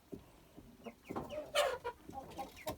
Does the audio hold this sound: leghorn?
yes